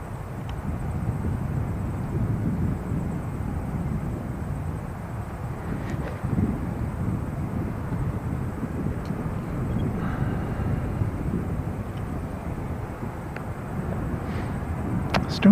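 An airliner departs Christchurch airport bound for Palmerston North, a steady distant jet roar with wind noise that holds at an even, moderate level throughout.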